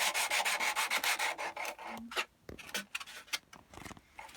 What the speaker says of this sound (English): we're going to just carefully sand round it